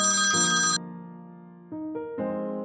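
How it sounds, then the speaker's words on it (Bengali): A mobile phone ringtone plays loud and close in an animated Bengali horror story: a bright melodic chime followed by a run of stepped electronic tones, with no voices. "মোবাইলটা বেজে উঠল"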